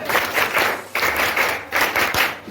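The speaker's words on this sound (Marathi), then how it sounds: "सर्वांनी त्याचा एकदा 3 टाळ्या वाजवून स्वागत करा" A school audience at an election results event claps in three bursts of applause to welcome the winning candidates. The bursts are loud and close together, with brief gaps between them.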